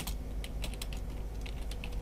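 Fingers type on a computer keyboard, a close run of light, irregular key clicks over a low steady background hum.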